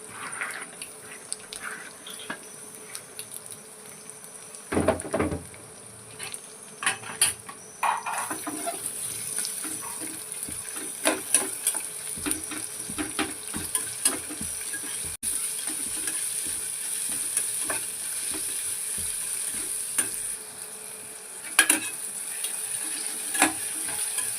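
Sliced green chillies and onions sizzle steadily in a hot pan for chicken pepper fry, with a constant hiss under scattered stirring clatters and scrapes, close and fairly quiet throughout.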